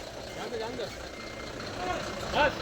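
A 25-ton truck reverses with short electronic warning beeps that come near the end. A low engine rumble runs beneath them, and voices can be heard faintly around it.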